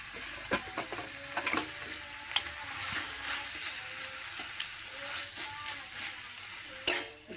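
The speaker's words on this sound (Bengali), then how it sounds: "এই যে ভাজা মাছের মুড়োটা দিয়ে দেবো" A fried fish head is stirred in a pan while cooking greens, with soft sizzling beneath scattered clinks and scrapes of the utensil against the pan, fairly quiet and close.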